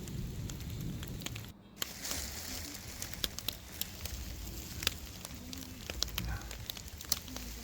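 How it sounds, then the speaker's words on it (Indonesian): Steady rain falling on a muddy mountain trail on Mount Prau, a soft continuous hiss with scattered crisp drop ticks, fairly close and alone without talk. "Hujan tak kunjung berhenti juga, jadi lumayan dingin."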